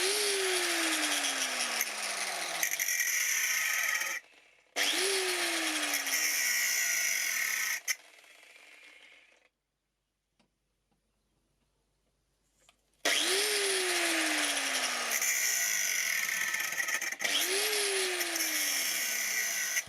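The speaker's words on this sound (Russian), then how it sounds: "Хорошо такую операцию выполнять болгаркой с регулятором скорости." Angle grinder sharpening a chainsaw chain, loud and close: three long bursts of harsh grinding whine, each starting with a quick spin-up, broken by short gaps and a long silence around the middle.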